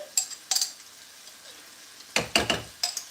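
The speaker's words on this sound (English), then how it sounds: "our garlic and ginger has gone inside there, and we're going to mix this baby up" Garlic and ginger paste stirred into hot oil in a pan: a few short bursts of sizzling and spoon scraping against the pan, separated by near-quiet gaps.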